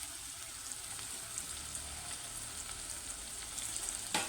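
Eggplant and tomato curry in oil, with coriander just added, sizzles softly and steadily while being stirred, faint and close with no talking.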